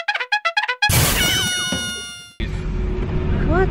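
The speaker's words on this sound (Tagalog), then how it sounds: "There's cat, guys." A cat gives a short run of loud, close meows, then a drawn-out yowling caterwaul. The calls continue against a rough, noisy background.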